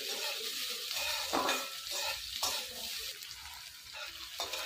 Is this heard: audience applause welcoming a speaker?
no